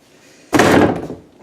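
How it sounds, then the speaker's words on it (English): A bedroom door slams shut once, a single loud, close thud that fades over about a second. "that's what happens if I slam my door"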